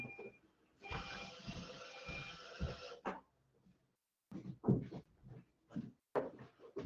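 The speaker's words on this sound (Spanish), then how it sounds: "Es que estaba la aspiradora saliendo." A robot vacuum cleaner starts up in a home with a two-second whirring motor hum, then stops, followed by a few short mechanical clicks and bumps at close range.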